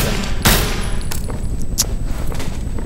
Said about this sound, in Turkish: Gel abi gel sana da son bir tane sıkayım şöyle.